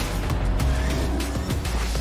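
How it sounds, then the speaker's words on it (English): A Lamborghini races through a Fortnite game trailer, its engine roaring close and loud with brief tire squeals, layered over a busy soundtrack for about two seconds. "Lamborghini."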